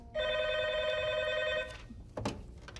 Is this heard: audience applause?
no